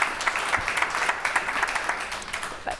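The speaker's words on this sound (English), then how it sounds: "Clapping." A studio audience claps steadily, a dense, even wash of many hands close and loud from start to finish, with no voices over it.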